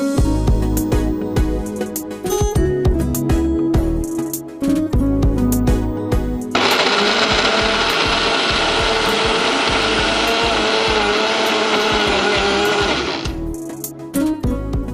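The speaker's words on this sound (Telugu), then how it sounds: "ఇంకోసారి మిక్సీ తిప్పేసి." A kitchen mixer grinder churns powder with grated jaggery, loud and close. It starts with short choppy pulsed bursts, then runs in one long continuous roaring whir before cutting off, with no voices.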